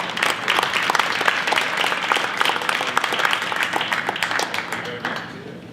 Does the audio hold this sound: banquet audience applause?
yes